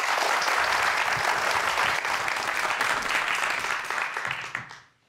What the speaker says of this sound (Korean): 여러분들 박수 부탁드립니다.